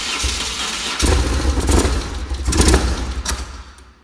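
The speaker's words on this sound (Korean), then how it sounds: "요 정도로 세팅하고서 시동 한번 걸어봐" An older BMW R1100RS motorcycle engine cranks and catches, runs with a low, uneven throb for a couple of seconds, then stalls and dies away, heard close up with no talking.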